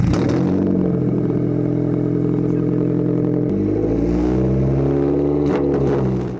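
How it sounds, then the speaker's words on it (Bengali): A 2019 Toyota RAV4 hybrid with an aftermarket dual exhaust idling and revving close by, a loud steady engine drone that shifts pitch midway and cuts off near the end, no voices. "চলুন আপনাকে গাড়ির এক্সস্টের সাউন্ডটা একটু শোনাই"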